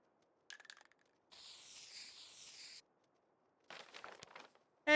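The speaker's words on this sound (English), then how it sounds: "can I spray paint in here?" Spray painting a wall in The Long Dark survival video game: one faint, steady aerosol hiss lasting about a second and a half, set between soft rustling and clicking game sounds.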